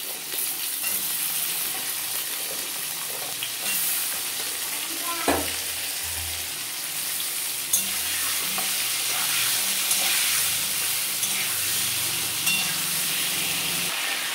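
Vegetables with drumstick stems and potatoes fry in a pan, a continuous close sizzle and hiss with occasional stirring scrapes and clinks of a utensil, steady and moderately loud.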